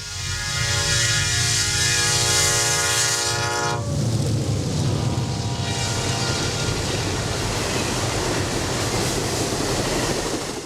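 An Amtrak Shawnee passenger train, running between Carbondale and Chicago, blows a loud sustained horn chord up close, then the horn cuts off and the steady roar and rattle of passing cars continues.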